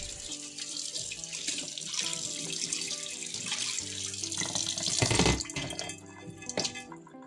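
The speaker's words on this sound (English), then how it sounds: "Wet the dish with water." Tap water runs steadily over a glass baking dish, a close splashing stream whose tone shifts as the dish moves under it, swelling briefly near the end before easing off.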